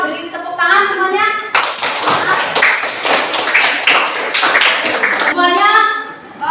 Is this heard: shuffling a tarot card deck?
no